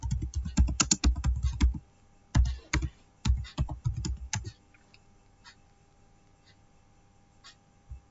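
A laptop keyboard typing a ping command in a command prompt: rapid bursts of close key clicks, then a few sparse taps and quiet.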